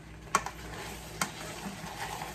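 Alfredo sauce for chicken Alfredo is stirred in a pan, with two quick scraping clinks of the spoon against the pan over a soft, steady simmering hiss.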